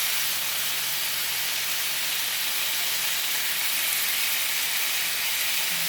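Olive oil heats in a pan, giving a steady, loud, even hiss of sizzling with no breaks, alone and without talk.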